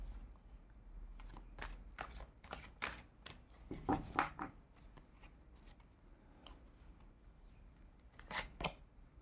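Tarot cards shuffled and drawn from a deck, giving a run of crisp slaps and riffles in short bursts with pauses between, close and fairly quiet, with no talk.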